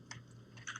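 Keys on a keyboard are tapped while a web address is entered, giving a few soft, quick clicks in two small clusters, faint and close with no voices.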